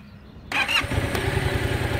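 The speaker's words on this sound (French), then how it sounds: "On met la moto en route." A Yamaha MT-07 motorcycle engine cranks and fires into life after half a second of quiet, then settles into a steady, close, rumbling idle with no talk over it.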